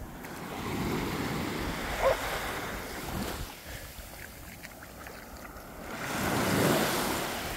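Sea waves wash and surge with broad, rushing noise under steady wind buffeting the microphone, swelling louder near the end, with a boat or small craft nearby in the water.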